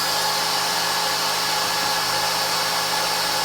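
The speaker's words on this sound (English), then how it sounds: "see the router's going to start spinning up there" Spindle of an X-Carve CNC router spinning, a steady high-pitched motor whine with a constant tone and no pauses, loud and alone.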